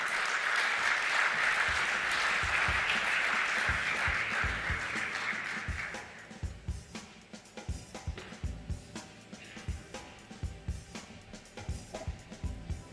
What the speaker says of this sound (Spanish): Recibamos con un aplauso al señor Louis de Grange.